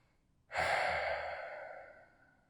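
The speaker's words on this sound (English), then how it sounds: "release, take a breath or two between sides" A single deep exhale after a yoga forearm stand pose is released, a soft breathy sigh that swells quickly and trails off over about two seconds, close to the mic with no talking.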